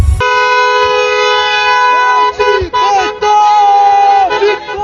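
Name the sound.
car horns honking at a street celebration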